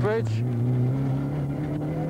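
A Peugeot rally car with a Mount Tune engine at the West Cork Rally, heard onboard: the engine revs up, shifts and holds a steady loud drone, close and dominant, with a co-driver calling notes over it.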